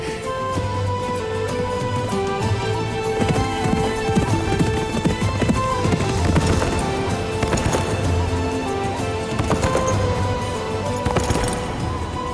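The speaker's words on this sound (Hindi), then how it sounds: "वाकई अर्जुन भाई घोड़े पर आ रहे हैं" Horse hooves clip-clop in a steady galloping rhythm as a rider approaches, with occasional neighs over a continuous background of music in a historical drama, loud and sustained throughout.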